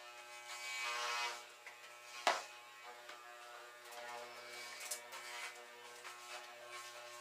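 Electric hair clippers fitted with a number 4 guard buzz steadily through hair at the back of the head, a close, even hum with one brief sharp crackle partway through and slight shifts in tone as the blades move.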